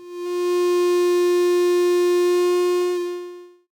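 A loud, steady electronic feedback tone from a no-input mixing board, rich in buzzy harmonics, holds for several seconds with a slight wobble, then cuts off abruptly.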